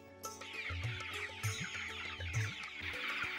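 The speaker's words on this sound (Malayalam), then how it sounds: "ഇപ്പോൾ സുരേഷിന്റെ ഫാമിൽ 500ഓളം കോഴിക്കുഞ്ഞുങ്ങളുണ്ട്." Chickens clucking on a poultry farm that holds around 500 young birds: a steady run of close, repeated clucks with no talk.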